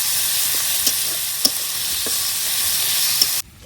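Onion and garlic paste sizzles steadily in a pan as a filling for village-style puli, with a few soft stirring clicks over the hiss before it cuts off abruptly.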